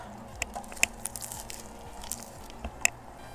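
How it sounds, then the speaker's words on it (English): Someone bites into and chews pizza up close, a few sharp crunchy bites followed by soft wet chewing, quiet and with no talking. "Now with that completed, I can eat my pizza."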